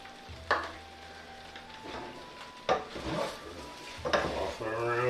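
Chicken fried rice with chives is tossed in a pan, with a few sharp metal scrapes and clanks of utensil on pan over a steady sizzle, close and loud.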